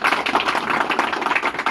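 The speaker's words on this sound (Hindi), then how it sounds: "तालियां भैया बजाते हैं" Clapping at a retirement felicitation ceremony for an employee, where a senior vice president garlands the honoree; a small group claps steadily and fairly close, with dense, uneven hand claps.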